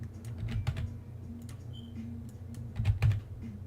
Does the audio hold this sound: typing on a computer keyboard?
yes